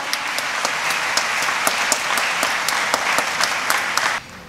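Congregation applauding at a Holy Mass to welcome a priest's family, a dense, steady clatter of many hands held for about four seconds before cutting off abruptly.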